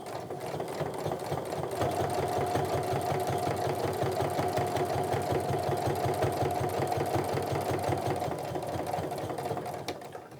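A sewing machine stitches a Rifle Paper Company Tourist Tote, running in a fast, even mechanical whir of rapid needle strokes close by, continuous for nearly ten seconds before slowing to a stop.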